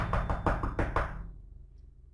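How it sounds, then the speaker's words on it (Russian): Knocking on a door in Minecraft: about six quick, hollow raps in a fast uneven burst, close and clear, trailing off into a short fading ring with no voices. "А, подождите, я забыл постучаться в дверь."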